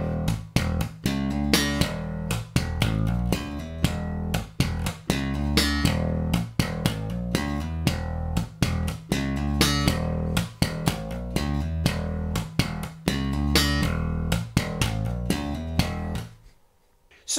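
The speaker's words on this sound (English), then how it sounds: "So here's a quick riff that you can practice just to get used to this this rest stroke technique." Slap bass riff played with a rest stroke technique: punchy, percussive plucked notes in a repeating syncopated pattern, loud and close, alone without talk, ending abruptly.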